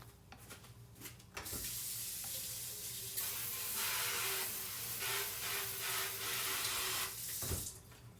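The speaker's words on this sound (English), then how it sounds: "I'm gonna take my spoon. I'm gonna rinse it off." A metal spoon is rinsed under a running kitchen tap, with steady broadband water rushing for about six seconds and faint clinks at the start and end.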